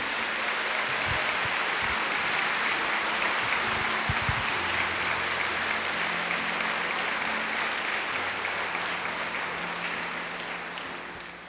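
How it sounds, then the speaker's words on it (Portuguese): A church congregation at a Catholic religious gathering applauds, a dense sustained wash of clapping that runs the whole time and slowly fades toward the end. "Pode aplaudir."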